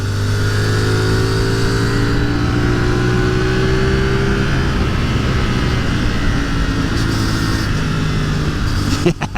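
A CFMoto 450SS motorcycle engine pulls hard from close range, its rising, revving tone climbing steadily and loud for several seconds before easing off, with wind noise and no talking.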